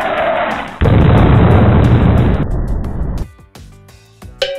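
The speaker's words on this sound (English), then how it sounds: "I think he is going to explode now" A loud, close explosion roars as a sustained rumbling blast that cuts off abruptly, followed by lighter crackling debris sounds and a final sharp burst.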